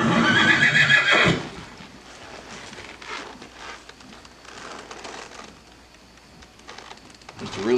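A Tennessee Walking Horse gelding gives a loud, close whinny, then hooves clop steadily and more quietly, and a second neigh starts at the end.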